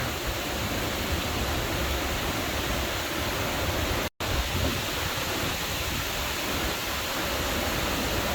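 Heavy rain and surf from storm Paeng pound a beach as waves wash over a sandbar, a steady, loud, broadband roar that continues unbroken except for a split-second dropout midway.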